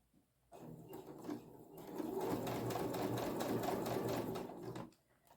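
A sewing machine stitches patchwork fabric, starting after a short pause with a fast steady mechanical whir and rapid needle clatter, close by, before stopping near the end.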